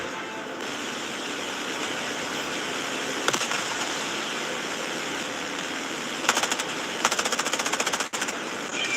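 Machine-gun fire in a wartime drama, with a constant roar of battle noise and a few short bursts of rapid-fire rattling near the end.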